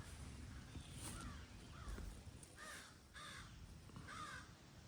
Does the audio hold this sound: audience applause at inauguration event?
no